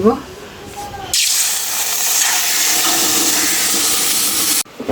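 Water poured onto fried mung dal in a hot pan sets off a sudden loud, steady hiss of steam that lasts several seconds and then cuts off abruptly.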